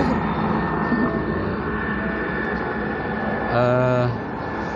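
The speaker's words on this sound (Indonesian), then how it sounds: "ada suara helikopter ini" A helicopter flying near an airport makes a steady, droning engine hum that fills the whole stretch and briefly grows louder and more tonal near the end.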